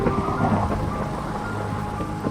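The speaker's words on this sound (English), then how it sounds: "I really like the thunder when building this." Rolling thunder and steady rain in Minecraft while building in the Pale Garden, a continuous loud storm rumble with rain hiss throughout and no talk.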